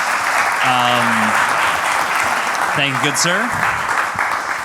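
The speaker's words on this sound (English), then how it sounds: "Round of applause from me." Dense, loud applause from an audience at an urban innovation event fills the whole stretch, continuous and even, with a voice speaking briefly over it twice.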